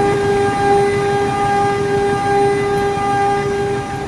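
A panoramic passenger train rolls past loudly and close, a steady heavy rumble of wheels and carriages with a sustained tonal hum like a horn or engine drone throughout.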